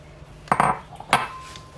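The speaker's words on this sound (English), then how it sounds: "just give it a bit of stir like this" A utensil stirring a macaroni, potato and chicken salad in a bowl gives two short clinking, scraping knocks about half a second apart, close and fairly quiet against a soft hiss.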